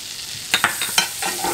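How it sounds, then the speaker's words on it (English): Minced shallots and chopped garlic sautéing in a pan, a soft, even sizzle with a handful of quick scraping stirs close by, and no one speaking. "You just wanna saute that until they turn translucent."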